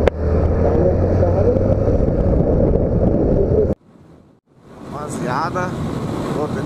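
Strong wind roars steadily into the microphone on a small-displacement motorcycle trip to Natal in northeast Brazil, then cuts out briefly before gusting back up while someone talks over it.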